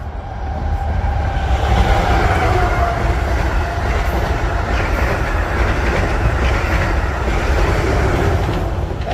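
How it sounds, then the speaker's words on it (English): A train rumbles past up close to a parking lot, a loud continuous roar with faint clickety-clack of wheels and occasional metallic squeal, no voices. "That's a train."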